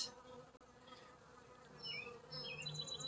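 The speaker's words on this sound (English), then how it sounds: "There is the bees that we're going to be getting into." Honeybees buzz around an opened beehive, a close, droning hum with individual bees whining past as they fly near.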